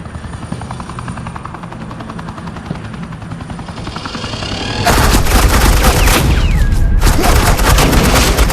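Helicopter rotor thrum and dense suppressing gunfire in a Batman video game scene, the chopper droning first before loud sustained bursts of automatic fire erupt at about five seconds and continue to the end.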